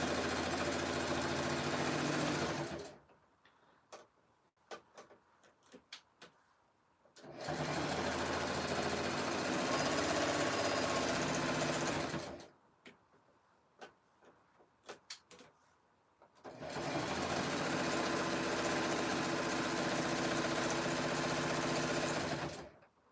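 A sewing machine stitches a fabric strip tube for a jelly roll rug in three long, loud, steady bursts, separated by quiet gaps with scattered clicks of handling the fabric.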